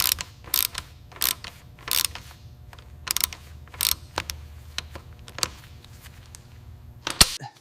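A ratchet clicks in short bursts while working a stubborn nut loose on an old, rusty abandoned Toyota Land Cruiser, with sharp close metallic clicks repeating irregularly and ending in one louder snap.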